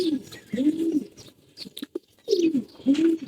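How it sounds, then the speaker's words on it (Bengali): Gulla pigeons in a home loft, giving low, rolling coos in two close bursts separated by a short pause with a few soft clicks and shuffles in between. "গুল্লা কবুতর গুলা উঠছে।"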